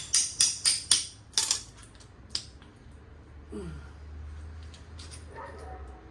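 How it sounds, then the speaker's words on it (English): A dog barks four times in quick succession, then once more after a pause, fairly close, with a whine and background noise afterward. "here's the neighbor's dog barking again"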